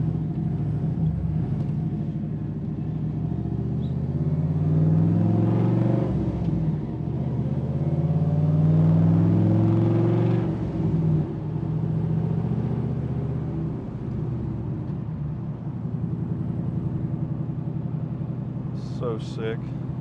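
An RWD LS turbo Pontiac Grand Prix drives down the road with a steady low rumble that swells as it accelerates, heard from inside the car under ongoing talk.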